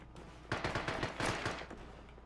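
Gunfire in a first-person shooter video game: quiet, rapid bursts of automatic fire from a player blind-firing, the shots in quick, uneven clusters with short gaps, and no talking over them.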